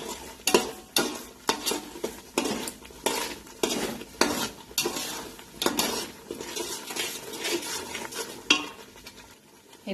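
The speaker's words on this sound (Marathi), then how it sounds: "आता हे मिश्रण चांगलं हलवायचं तेल सुटू" A spoon stirs a spice mixture with coriander powder in hot oil for a mixed vegetable bhaji: repeated rhythmic scraping strokes against the pan, close and fairly loud, over a soft background sizzle.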